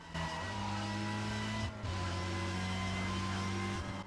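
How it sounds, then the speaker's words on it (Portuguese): A BMW M3 V8 engine in the Need for Speed Carbon racing game drones steadily and loudly, holding a sustained tone with one brief dip and shift partway through, heard alone. "olha o som desse carro"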